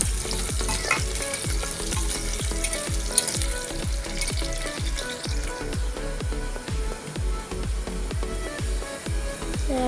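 Sliced onions fry in a hot pan for a koldil dish, with a constant crackling sizzle and a regular series of stirring strokes, close and steady throughout with no talking.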